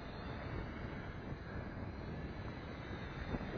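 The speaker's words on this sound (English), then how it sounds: "the wind is really blowing out here" Strong gusty wind roaring across the microphone outdoors while flying an FPV quadcopter, a constant heavy rumble with broad hiss, buffeting slightly stronger toward the end.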